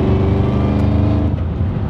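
A 2003 Mustang Cobra Terminator accelerates hard through the gears, its engine a loud, close, sustained roar that climbs steadily in pitch before a brief dip at a shift, with no voices over it.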